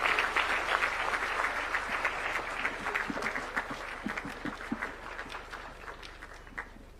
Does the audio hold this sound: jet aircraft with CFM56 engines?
no